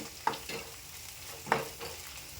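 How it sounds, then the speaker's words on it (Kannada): Fenugreek leaves with turmeric stirred in a hot pan, a spoon scraping in two distinct strokes over a soft, steady sizzle, close and alone. "ಒಂದ್ಸರಿ ಎಲ್ಲ ಮಿಕ್ಸ್ ಮಾಡ್ಕೋರಿ"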